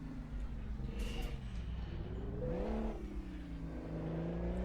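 A Mack log truck engine in American Truck Simulator drones steadily, its pitch dropping and then climbing again as it downshifts, a continuous close, low rumble with no talking.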